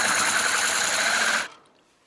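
Drill whirring steadily as it bores into a coconut to make a bird feeder, loud and close, then cutting off abruptly with a faint tail of silence.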